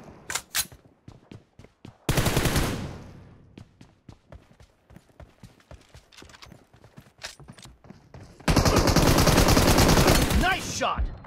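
M416 assault rifle gunfire in PUBG Mobile, rapid bursts of close, loud automatic shots with sparse single shots between, plus two long sustained loud bursts of fire or noise.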